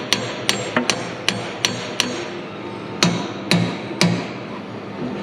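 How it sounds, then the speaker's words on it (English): Heavy hammer blows strike a big chisel driven in to split apart a roller shaft on a Deere 700J dozer undercarriage. The sharp, ringing metallic hits come about a dozen times at a steady, unhurried pace, close and loud. "All you gotta do is take the 2 bolts out and a big chisel and spread them apart."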